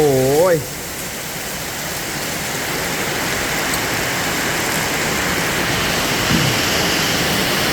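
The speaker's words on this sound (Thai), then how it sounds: "ตกหนักเลย ชุ่มฉ่ำเลยทีเดียว" Heavy rain pours down in Ban Kruat, Buriram, a steady loud wash of broadband hiss; a brief voice sounds at the very start before the downpour continues alone.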